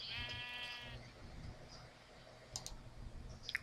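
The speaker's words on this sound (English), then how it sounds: "This is a sheep that I told to shut up." Video game sheep gives a short, clear bleat at the start, followed by quiet background hum and scattered sharp clicks like a keyboard or mouse, fairly faint overall.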